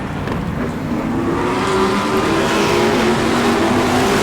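A-Mod race cars roar around the Auburndale dirt track, engines droning loudly and continuously with rising revs as the 55 car gets loose off the corner under power.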